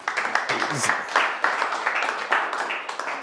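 Audience clapping at a door-to-door solar sales training session, steady scattered applause running through the clip at moderate volume.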